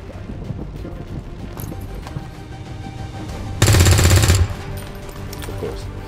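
A loud, close burst of rapid automatic gunfire from a video game cuts in for under a second over a steady, windy game background.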